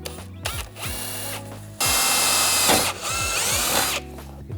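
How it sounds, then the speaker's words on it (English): A power drill bores a small pilot hole for a self-tapping screw that holds a cable clamp while an air ride suspension kit is installed on a Dodge Challenger. The motor whirs in short bursts, then runs steadily under load, loud and close. "I still like to make a little small hole, or drill a small hole"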